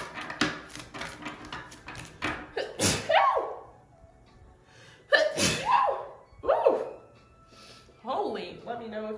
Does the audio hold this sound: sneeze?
yes